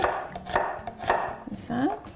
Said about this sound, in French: je vais hacher finement l'ail.